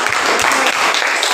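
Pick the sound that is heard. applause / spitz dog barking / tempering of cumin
applause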